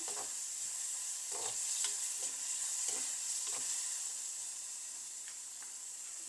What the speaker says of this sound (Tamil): அதையும் நல்லா மிக்ஸ் பண்ணி அதுவும் கொஞ்சம் நல்லா வதங்கட்டும்